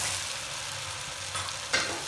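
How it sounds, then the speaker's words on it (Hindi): Onions frying with ginger garlic paste for a meatball chicken pulao: a close, steady hiss and sizzle with light stirring scrapes and a brief louder crackle near the end, with no talk. "प्याज के साथ ये भी ज़बरदस्त से फ्राई हो जाए"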